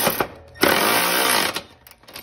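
A loud, steady motorized whir runs for about a second in the middle, with shorter bursts before and after, heard during tightening of a nut with a wrench on a Cub Cadet XT1 42-inch mower deck.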